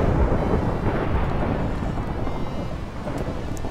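Steady rain and a deep rumbling thunderstorm in the game Minecraft, a continuous loud wash of rainfall with low thunder throughout, no voices.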